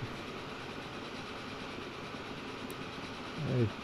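Passenger and freight trains roll past in the Transport Fever 2 railway simulation, a steady, even rumble of wheels on track lasting throughout, with a brief louder swell near the end.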